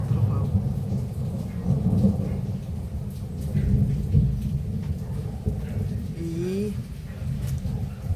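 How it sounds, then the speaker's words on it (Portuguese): Rumbling thunder during a storm with rain, a low rolling boom that swells and fades through the clip while someone talks over it. "Gente do céu, trovão."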